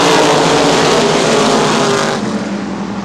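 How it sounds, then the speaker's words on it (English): A pack of USAC Silver Crown race cars roars loudly and steadily at Toledo Speedway as the green flag falls off turn four, engines sustained at full power before easing slightly near the end. "Cody and Tanner will bring us to the green off of turn number four"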